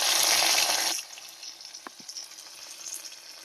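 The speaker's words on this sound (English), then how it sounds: "This is me just searing the pork butt on all sides before I let it pressure cook." Pork butt searing in a hot pan before pressure cooking, a loud close sizzle for about a second that drops to a quieter crackle with a few faint pops and clicks.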